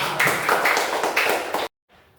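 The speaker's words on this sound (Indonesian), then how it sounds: "Tepuk tangan." Classroom applause during a Quran lesson on Surah Al-Hujurat, a burst of clapping by a group of students that rises and falls in waves for about a second and a half, then cuts off sharply into near silence.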